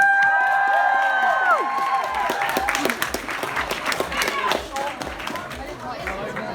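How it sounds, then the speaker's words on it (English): An outdoor Pride crowd at a performance poetry event bursts into applause and cheering for a poet, dense clapping with whoops close by, a voice trailing off at the start. "Please give a massive round of applause to George Bidwell!"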